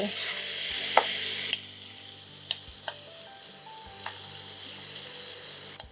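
Prawns fry in chimichurri sauce in a pan, giving a steady, loud, close sizzle with a few sharp clicks and taps of a utensil. There is no speech.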